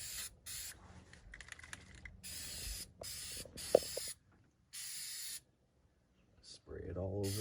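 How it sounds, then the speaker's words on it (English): Spray can of sealant squirting into roof shingle cracks in several short hissing bursts separated by pauses, close by, with someone talking between sprays. "Spray it all over my finger."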